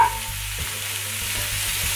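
Standard beef mince frying with onions in a pan: a dense, steady sizzle close up, with soft stirring scrapes recurring throughout and no talk.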